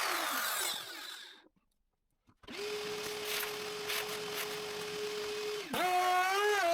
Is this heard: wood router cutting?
yes